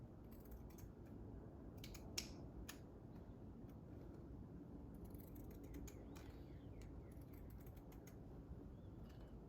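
Faint scissor snips cutting through fabric heart ornament pieces, a few soft, scattered clicks over a quiet room hum.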